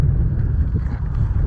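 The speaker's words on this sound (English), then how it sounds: "I don't know whether this is going in because it's quite windy" Steady wind buffets the microphone on an open hillside hike at Higger Tor, a continuous low roar with no pauses, loud and close throughout.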